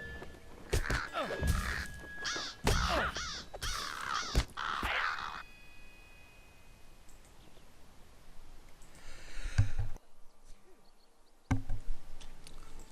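Birds calling in the fantasy video game LOTRO, a series of sharp crow-like caws and chirps in a quick burst near the start, then quieter ambient game sounds with a faint rustle later.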